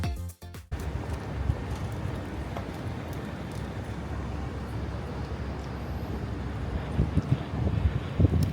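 Strong outdoor wind buffets the microphone in a steady, roaring rush that lasts throughout, with a brief dropout near the start and low gusty rumble dominating.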